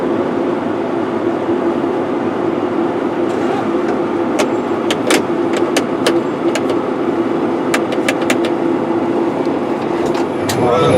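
Tractor pulling a Degelman Pro-Till disc at about 9 to 10 miles per hour, a steady loud low engine roar with rattling clanks and metallic ticks scattered through the middle, heard from inside the cab.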